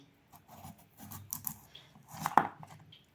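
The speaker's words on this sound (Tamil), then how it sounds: "இதை அப்படியே பொடியாக நறுக்கலாம் கேரட்டை வெங்காயத்தையும்" A knife taps quickly and irregularly on a cutting board while chopping carrots and onions finely, soft and close, with one louder clack near the end.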